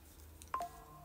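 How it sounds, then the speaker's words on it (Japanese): A mobile phone emits a brief, quiet electronic tone, a couple of quick beeps in the middle of an otherwise hushed indoor room. "携帯の音怖い。"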